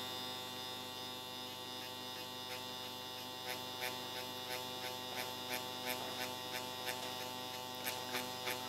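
Rosa Root mini tattoo machine fitted with a Kwadron needle module buzzes steadily while shading in a back-and-forth pendulum motion, a constant electric hum with a rhythmic series of light ticking pulses as the needle touches the surface.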